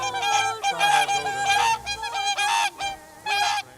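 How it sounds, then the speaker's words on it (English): Geese honk repeatedly in a close, loud chorus, overlapping calls coming in bursts with short gaps, no voices among them. "6 geese a-laying"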